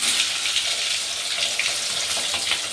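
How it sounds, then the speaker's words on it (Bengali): Bay leaf, cardamom and cinnamon tempering in hot mustard oil in a kadai, giving a continuous bright crackling sizzle, close and steady without speech. "তেজপাতা ফোড়ন দেওয়া হচ্ছে।"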